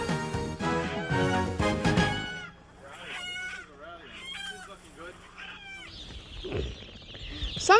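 Chickens cluck and squawk in a quick, warbling jumble after a brief burst of voice or music at the start, fairly close and moderately loud.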